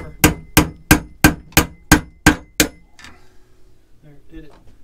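Eight sharp, evenly spaced hammer blows ring out close by during a sink plumbing repair in a bedroom bathroom, followed by quieter clinks and faint voices.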